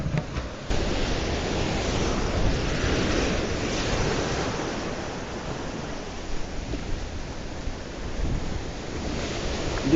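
Ocean surf crashes against rocks at a fishing spot, a continuous loud wash of breaking waves with wind buffeting the microphone.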